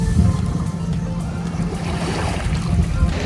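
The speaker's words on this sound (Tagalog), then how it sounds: "I love the sound of the beach, the waves." Waves washing onto the shore at Acea Subic Beach Resort in the Philippines, a steady broad wash of surf with faint low rumble throughout, no clear talk.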